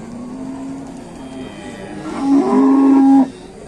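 A large cow at the Gerabak livestock market lets out a loud, drawn-out moo near the end, rising above a background murmur of market noise.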